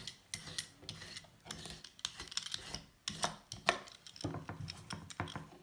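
A knife peels the outer layer off a vegetable being prepared for couscous, giving a run of close, dry scraping and rasping strokes in irregular bursts, with no talking.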